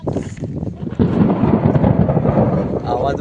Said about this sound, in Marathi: वीज कडाळली ना